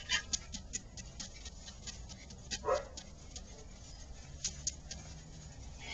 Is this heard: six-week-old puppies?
yes